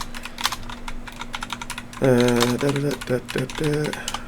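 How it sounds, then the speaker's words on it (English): Fast, loud clatter of a computer keyboard being typed on, a dense run of clicks throughout, with someone talking over the keys in the second half. "Tevin, buy another keyboard"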